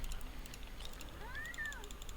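A single faint cat meow rises and falls near the end, heard over quiet computer keyboard typing and background hiss during Minecraft play.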